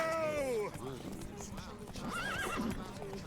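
Horses in the video game The Witcher 3 at the start of a race, with loud, shrill whinnies and neighing over a busy hoofbeat clatter, while voices talk underneath.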